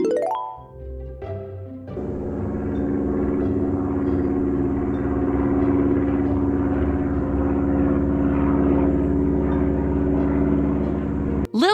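Steady drone of a propeller airplane in flight, loud and continuous for about ten seconds after a brief softer start, with no speech.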